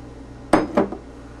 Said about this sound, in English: More stirring.